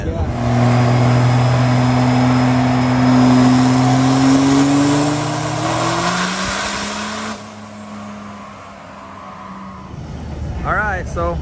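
A race truck engine on nitrous roars loudly on a dyno pull, its pitch climbing steadily for several seconds before it drops off and winds down to idle, with voices near the end.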